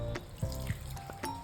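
Water poured by hand into flour in a home kitchen while kneading dough, a soft trickling pour with small splashes, faint and close, with no talk over it.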